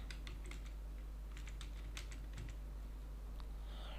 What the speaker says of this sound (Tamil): கிளிக் பண்ணிவிட்டு நான் Blackboard அப்படின்னு டைப் பண்ணிக்கிறேன்.